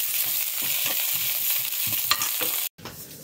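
Okra sautéing in oil in a pan for a tamarind curry, a close, steady sizzle with rhythmic soft scraping from stirring, briefly cut off near the end.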